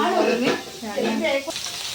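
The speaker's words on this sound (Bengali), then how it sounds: "এদিকে এখন হচ্ছে ইলিশ মাছ ভাজা" Hilsa fish frying in oil at a home cooking for a Manasa puja, a bright sizzling crackle with spatula movement, overlapping with voices talking nearby.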